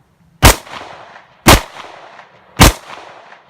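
Three sharp, loud gunshots from a Diamondback AM2 pistol fired outdoors, spaced about a second apart, each a close crack followed by a short echoing tail, with no talking.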